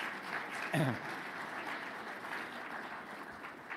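Audience applause at a college State of the College address fills the clip, a dense steady wash of clapping with a brief voice cutting through near the start.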